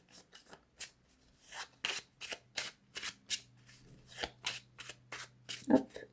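Loteria cards being handled and laid out during a card reading, with a quick series of soft card flicks and slides at an uneven rhythm, close and fairly quiet.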